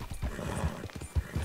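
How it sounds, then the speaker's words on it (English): Soft video-game horse hoofbeats clip-clop in a quick, uneven rhythm going up a hill, fairly faint and close, with no talking. "Stop wiggling, you stupid horse. Go up the hill."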